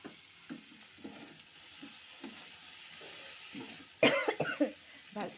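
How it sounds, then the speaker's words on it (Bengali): Fried potato and cauliflower being stirred in a pan, a spatula scraping in soft repeated strokes at a steady pace over a faint sizzle, with a louder burst of clattering and scraping near the end. "ভাজা আলু ফুলকপিগুলো দিয়ে ভালো করে নেড়ে"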